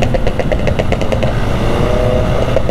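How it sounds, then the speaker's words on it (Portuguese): Loud rumbling engine running up close with rapid, irregular popping bursts over its idle, no voices. "Esse carro dando pipoca aí na frente."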